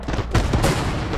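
A grenade exploding in the World War II shooter Hell Let Loose, a short loud blast with a burst of broadband noise and a second punch shortly after, close and brief.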